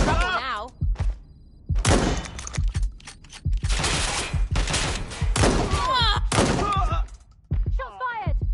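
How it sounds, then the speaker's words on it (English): Gunfire from the video game Watch Dogs: Legion: repeated loud bursts of shots in several clusters over about eight seconds, with a gamer shouting excitedly between and over the volleys. "Shots fired."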